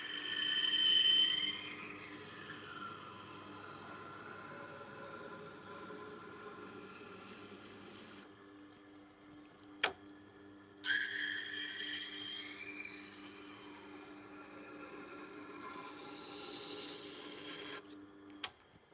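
A chef knife being sharpened on a stone, with steady repeated rasping strokes that hiss across the blade, broken by a brief pause near the middle before the scraping resumes.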